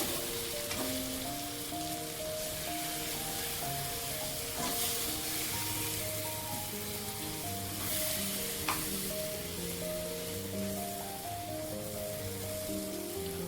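Stuffed brinjal (gutti vankaya) curry frying in a pan and stirred gently: a loud, continuous, even sizzle throughout, with occasional soft scrapes, under steady melodic background music.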